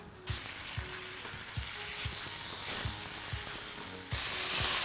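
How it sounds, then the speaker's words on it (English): Potato fries in a pan with onions, garlic, ginger, chilli and spices, giving a steady close sizzle and hiss broken by soft rhythmic stirring scrapes, with no voices. "Right, so I've allowed the potato to cook for a few minutes with the onions, garlic and ginger, the chilli and the spices"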